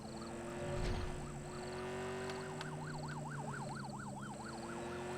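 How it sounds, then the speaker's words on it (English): A police car siren in the video game American Fugitive wails in a rapid up-and-down yelp over a low engine hum, steady and fairly close throughout. "Sirens blazing."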